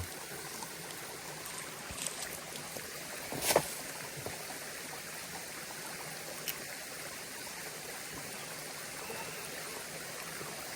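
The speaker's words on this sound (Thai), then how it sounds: "น้ำตกตรงนี้ น้ำตกในป่าแห่งนี้ สดชื่นจริง ๆ นะ" A forest waterfall flows in a steady, soft rushing hiss, faint and even throughout, broken only by a brief louder splash or knock partway in.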